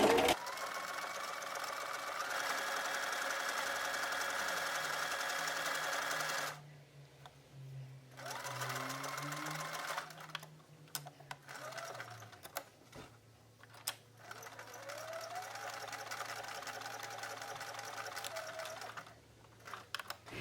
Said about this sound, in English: I'm just going to pivot around the corner and then pivot back to sew up to the top.